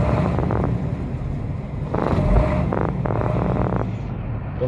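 A Hino truck engine with an oil pressure fault runs steadily after a restart, a continuous low rumble with some wind noise, close and fairly loud, no talking.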